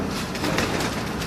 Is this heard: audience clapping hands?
no